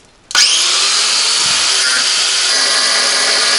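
Angle grinder switched on with a sharp start, then cutting a metal pipe in a loud, sustained high whine, close by, with no talk over it.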